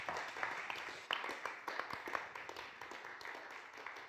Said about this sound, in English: So just a big round of applause for Alex and Rob.